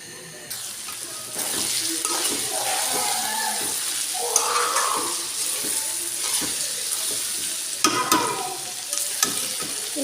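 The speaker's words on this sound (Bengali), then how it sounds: "সুন্দর করে ভালো করে লাল লাল করে ভাজে নিব" Small potatoes fry in a pan with a steady sizzle, broken by repeated scraping and stirring strokes of a utensil and a few sharper clinks, close and fairly loud.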